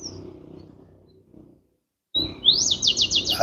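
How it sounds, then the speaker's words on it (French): Birds chirp in a quick series of rising tweets near the end, clear and fairly close, after a stretch of low murmuring background and a short near-silent gap. "on entend les oiseaux"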